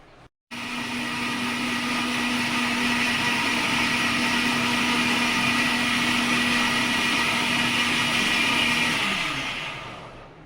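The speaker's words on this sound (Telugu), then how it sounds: "మిక్సీ ఆన్ చేస్తే వేస్తావా?" A mixer grinder whirs loudly and steadily with a high, constant motor whine for about nine seconds, then winds down.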